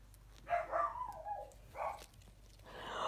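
Several dog barks in short bursts, somewhat distant and muffled, with pauses between, followed by a longer yelping bark at the end.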